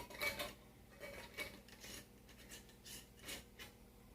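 A canning jar lid is set on upside down and its metal ring fitted: quiet metallic scrapes and light clinks in short, irregular bursts, close and faint with no talking.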